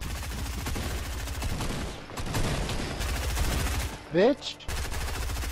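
Video game gunfire crackles in rapid automatic bursts, loud and dense, with a player shouting over it and a short pause in the shooting.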